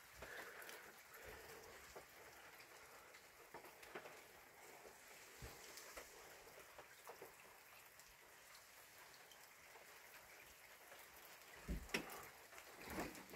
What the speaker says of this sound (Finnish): On hiljasta, ei kuulu kuin sateen ropina.